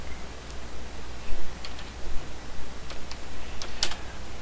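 Someone types a short search query on a computer keyboard, quick irregular clicks and taps at close range with brief pauses between bursts, no talking.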